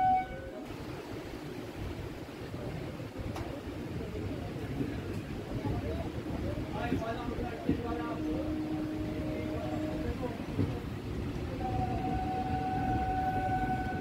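A Katwa-Ahmadpur MEMU passenger train pulls away from the platform with a steady, close rumble of wheels and carriages. A thin, sustained tonal whine rises near the end, and faint background chatter drifts underneath.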